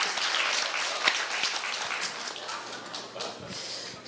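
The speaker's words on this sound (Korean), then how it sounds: "좀 박수 좀 쳐주셨으면 합니다" Audience applause at a school speaking contest fills the hall with a steady, dense clatter of many hands, moderately loud and fading slightly toward the end, with no speech over it.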